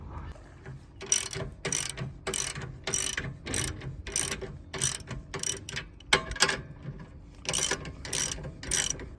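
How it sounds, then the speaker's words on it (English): Hand ratchet tightening nuts on a MORryde 1/2-inch leaf spring shackle kit fitted to an RV travel trailer, giving repeated bursts of close, sharp clicking strokes with brief pauses between them, heard alone without talk. "I do need to tighten down all the nuts because, yeah, that's gonna take a while."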